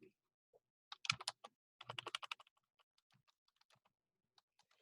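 Keystrokes on a computer keyboard, typed in quick bursts of clustered clicks followed by sparse, lighter taps, close and fairly quiet with no talking.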